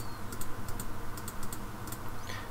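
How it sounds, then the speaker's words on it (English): Fast, repeated clicking while refreshing items in an Android app on a computer, a steady run of light, close taps with no talking. "just do a bunch of clicking."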